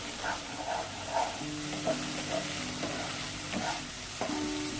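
Masala for a jackfruit and prawn curry fries and is stirred in a pan, a steady sizzle broken by scraping spoon strokes, close and moderately loud with nobody talking.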